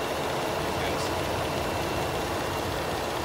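A Ford F-150 XLT with a 3.5 L engine idles with a steady, smooth, quiet rumble, heard up close in the engine bay and unchanging throughout.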